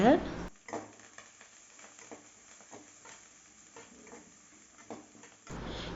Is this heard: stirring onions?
yes